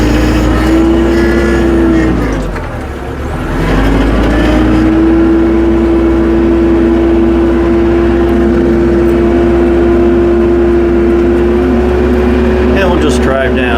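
Tractor fitted with pewag Doppelspur snow chains driving down a snowy driveway, its engine a loud, steady drone close by with a brief dip in pitch early on, while a person talks over it.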